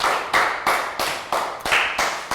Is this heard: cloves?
no